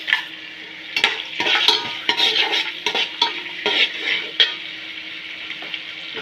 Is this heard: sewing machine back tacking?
no